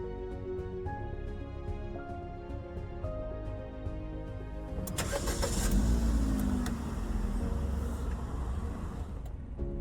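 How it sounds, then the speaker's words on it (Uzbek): Car engine started during a driving test: a steady idling hum with regular ticking pulses, then a louder surge of engine noise midway that settles back to a rumble, close by. "Dvigatelni ishga tushiradi."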